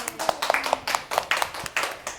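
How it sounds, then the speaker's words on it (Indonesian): Classroom students clap for a presenting group during a biology teaching session, a brief burst of about a dozen uneven, close claps. "tepuk tangan dulu buat kelompok 2."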